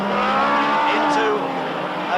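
Classic 1986 rallycross cars, including an MG Metro 6R4, race at Brands Hatch into a chicane, their engines a loud steady roar with whining tones, under continuous commentary.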